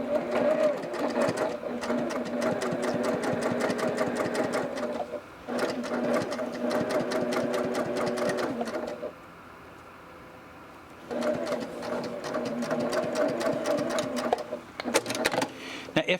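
A sewing machine stitches a cathedral window quilt block in fast rhythmic bursts, running about four seconds, pausing, then running again with short stops, close and clear with no voices.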